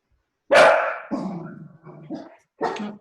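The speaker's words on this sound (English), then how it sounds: "my dogs are going crazy." Dogs bark loudly and close by indoors: one strong bark, then a few shorter, rougher barks and a final yap, with no talking over them.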